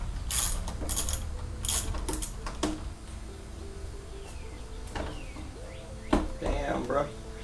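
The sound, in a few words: wrench loosening motorcycle handlebar bolts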